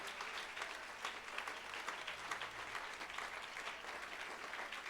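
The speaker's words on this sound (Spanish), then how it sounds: "Fuertes y aplauso al Rey del Cielo." A church congregation applauds during a sermon service: steady, dense clapping from a crowd that holds without pause, moderately distant, with no speech over it.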